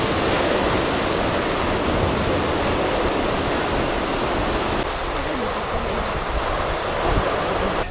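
Ocean surf washing onto a sandy beach, the water carrying churned-up sand; a steady, loud, close roar of breaking waves with no pauses and no voices.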